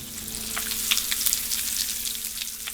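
Pop Rocks crackling in sticky slime: a steady, close fizz of tiny pops and snaps, a few louder crackles standing out against a faint low hum, with no talking.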